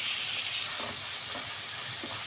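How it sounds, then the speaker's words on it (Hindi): Meat being stirred in a hot pan with soy sauce, vinegar and black pepper, as a loud continuous sizzle and hiss with a few soft stirring scrapes, close and steady, with no talking. "सही से हम इसको मिक्स कर लेंगे।"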